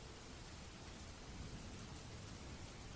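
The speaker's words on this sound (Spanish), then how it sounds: "La tormenta." A thunderstorm of steady, dense rainfall with rumbling thunder beneath it, continuous and even for the whole stretch, with no voices.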